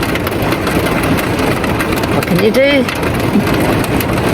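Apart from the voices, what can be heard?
heavy rain on a van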